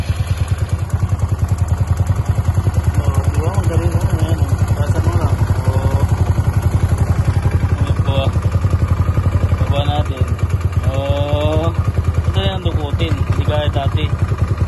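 A Yamaha Mio Sporty scooter engine idles steadily up close with an acrylic cover fitted, a loud continuous putter with slight clattering throughout and no speech.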